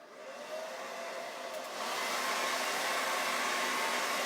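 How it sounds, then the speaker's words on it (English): Hairdryer blowing on a paintbrush loaded with acrylic paint, a steady close airy whoosh that rises in loudness partway through and holds alone without talk. "I probably need to hit it with the hairdryer for just a second"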